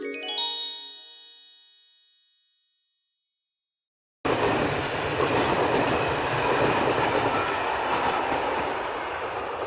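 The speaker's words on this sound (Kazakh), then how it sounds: "Бұл поезд." A train rumbles and clatters loudly and steadily for the second half, preceded by a fading bell-like chime and a few seconds of silence.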